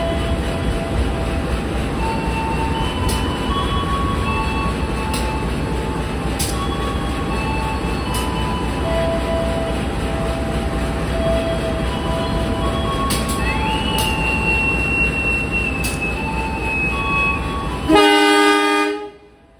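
KA Batavia economy train pulling away on its Gambir–Yogyakarta run, a steady loud rumble of the rolling stock with tonal horn and whistle lines over it, ending in a louder burst before cutting off.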